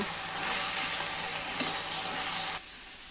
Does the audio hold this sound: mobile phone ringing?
no